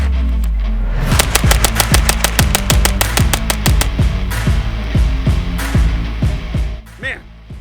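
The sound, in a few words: shots fired from Strybog carbine with budget prism optic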